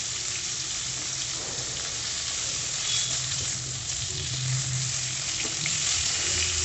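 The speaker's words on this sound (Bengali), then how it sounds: "মাছগুলো বন্ধুরা বেশি ভাজবো না, আমি হালকা একটু ছাঁচলে নেব।" Koi fish (climbing perch) fry in hot oil, giving a steady, dense sizzle that stays close and fairly loud throughout, with faint crackles and no voices.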